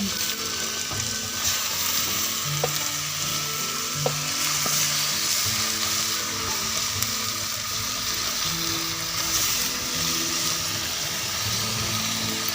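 Marinated chicken hits a hot pan and fries with a loud, steady, close sizzle that hisses evenly for the whole stretch, with occasional faint clinks and no talking.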